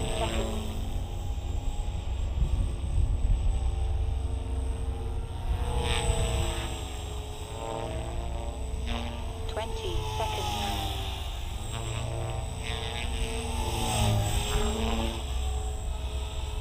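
A high, buzzing rotor whine from a Blade Fusion 270 RC helicopter drones continuously nearby, rising and falling in pitch as it moves around, with a voice talking over it.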